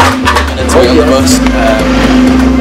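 Steady low engine drone and rumble of a city bus in motion, a constant hum running throughout with faint background chatter over it.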